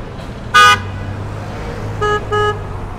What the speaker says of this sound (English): Looks like this driver doesn't know what they're doing and they're getting honked at from the rear